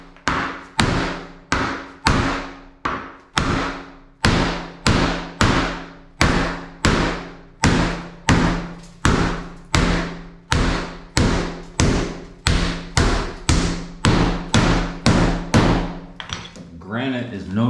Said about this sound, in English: just taking a hammer and busting out the center of these tile